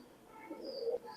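A Pakistani pigeon gives a short, soft coo, close by and faint, with nothing else sounding.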